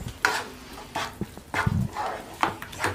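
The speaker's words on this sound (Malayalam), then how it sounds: "നമുക്ക് ഇളക്കി കൊടുക്കാം" Fish biryani masala stirred in a pan, heard as a few separate spatula scrapes and knocks against the pan over a faint sizzle, close, with a short thud and a brief noise that sounds somewhat like a bark.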